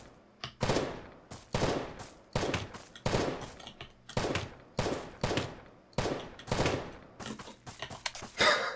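Repeated bursts of gunfire in the Roblox survival shooter Apocalypse Rising 2, about a dozen sharp evenly spaced shots fired in rapid rhythm, close and loud with no talking over them.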